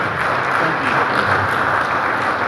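An audience gives loud, continuous applause after a lecture on AI-driven mechanical engineering. The thick wash of clapping stays even and close throughout, with no break.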